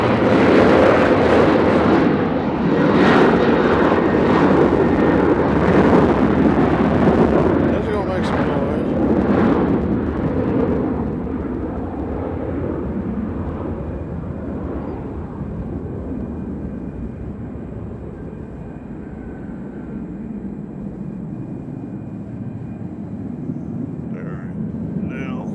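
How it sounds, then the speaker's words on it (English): An airliner taking off at Nashville International Airport gives a loud, broad jet roar that builds and then slowly fades into the distance, with a person talking over it. "This will be a long takeoff."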